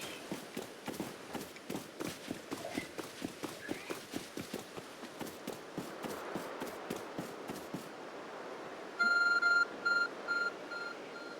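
Steady clip-clop of hooves for several seconds, then a series of short electronic beeps in bursts from a glowing object in Pokémon Legends: Arceus, fairly loud and close.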